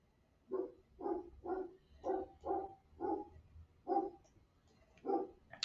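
A dog barks about eight times in a steady, evenly spaced series, fairly close and clear against a quiet background.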